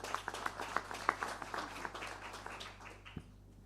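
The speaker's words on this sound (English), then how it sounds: "a round of applause to him as he comes." Audience applause at the Africa Climate Summit private sector breakfast in Kenya: a room of scattered hand claps at moderate distance, rhythmic and steady before tapering away into near silence.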